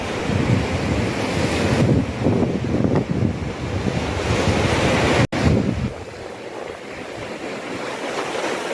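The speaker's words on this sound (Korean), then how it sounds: "해안길의 장점은 이렇게 바다를 보는 것과 파도 소리를 들으면서 가는 것이죠." Ocean waves wash onto the coast along a seaside walking trail near Geojin harbor and Hwajinpo, a steady broad roar of surf mixed with wind buffeting the microphone, loud and continuous, easing slightly in the last few seconds.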